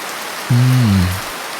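Cartoon-style rain falls at night as a soft, steady hiss, broken halfway by a brief, loud, low droning tone that swells and fades.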